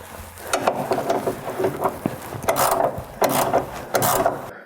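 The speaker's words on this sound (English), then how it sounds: "we need to remove this bolt using a size 13 socket" A ratchet with a 13 mm socket loosens a rear bumper bolt on a 2004–2008 Ford F150, giving close, rhythmic ratcheting clicks in repeated strokes.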